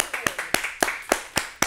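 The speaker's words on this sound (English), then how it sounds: "Give myself a round of applause for that." A lone person claps hands in a studio setting, about seven sharp, evenly spaced claps with a slightly uneven rhythm, fairly close and moderately loud, with no crowd joining in.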